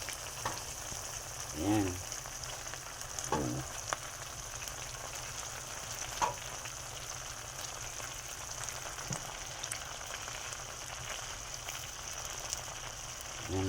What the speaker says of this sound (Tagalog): Ilagay na natin ang ating dahon ng ampalaya.